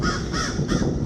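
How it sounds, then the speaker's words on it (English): Crows cawing on a bike ride along a road, three harsh cawing calls one after another, clear and fairly close, with no talking. "Crows in the sky."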